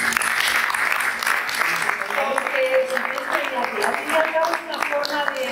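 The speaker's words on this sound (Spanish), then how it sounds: "un aplauso." An audience at a spoken-word storytelling event applauds a storyteller, a steady roomful of clapping with voices murmuring and calling out underneath.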